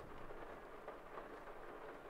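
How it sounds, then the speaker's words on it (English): Rain in the farming video game Farming Simulator 22, a soft, steady wash of falling drops with a low rumble beneath, faint and continuous with no talk. "I love the rain sounds."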